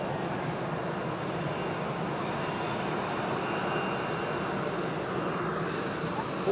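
An easyJet airliner on the move at Zurich Airport gives off a steady, broad jet-engine roar, moderately distant and constant throughout.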